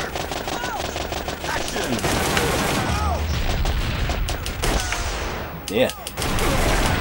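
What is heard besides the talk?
light gun gunfire in the video game Time Crisis on PS1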